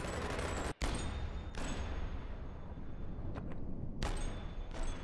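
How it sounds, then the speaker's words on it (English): Explosive bullets firing in the VR game Boneworks with a mod, a dense continuous barrage of loud blasts and gunfire with brief breaks, no speech. "This mod makes your bullets explosive."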